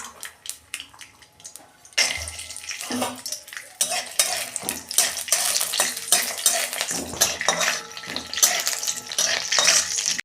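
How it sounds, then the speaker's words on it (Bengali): Peanuts frying in oil in a wok: after a few quiet clinks, a steady sizzle starts, broken by repeated scraping and stirring strokes of a utensil against the metal pan. "এই যে বাদামটা আমি একটু ভেজে নেবো।"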